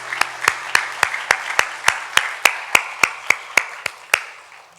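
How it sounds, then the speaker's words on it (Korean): A church congregation at a Sunday service claps in unison, about seventeen sharp, evenly spaced beats in a steady rhythm that stops abruptly. "하나님께 영광 박수 올려드리겠습니다"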